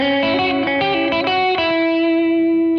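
An electric guitar with a distorted, chorus-tinged tone plays a quick rockabilly bebop scale run of picked notes, ending on a ringing sustained note, alone with no talk.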